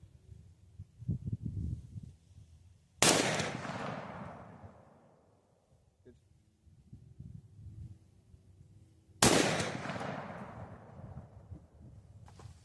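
Two loud .308 rifle shots firing Winchester white box ammunition at an outdoor range, each a sharp crack with a long, rolling echo that fades over several seconds, with quieter handling noise between them.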